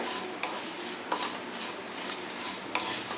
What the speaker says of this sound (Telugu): శుభ్రంగా కడిగి ఆరబెట్టాను కరివేపాకుని ఇట్లా వేయించితే ఇప్పుడు బాగుంటుంది